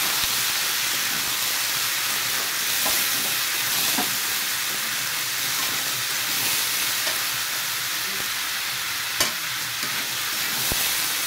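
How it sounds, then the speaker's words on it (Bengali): Potatoes and chickpeas fry in a wok and are stirred, giving a steady close sizzle and hiss with scattered scraping clicks of the spatula against the pan, no voices. "দিয়ে দেওয়ার পরে একটু নাড়াচাড়া করে নেব।"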